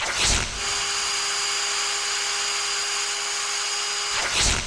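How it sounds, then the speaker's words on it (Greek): A power drill runs steadily for about four seconds at a constant whining pitch, starting and stopping with brief bursts, close and loud with no voices. "τρυπάνια, ανοίγει τρύπες και τέτοια"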